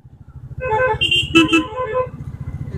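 A vehicle horn sounds in a couple of bursts over the steady rumble of a motorbike engine nearby on a winding hill road at Ajodhya Pahar, Purulia, with the honks standing out clearly.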